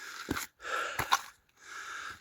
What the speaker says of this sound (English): Sorry for the slightly heavy breathing.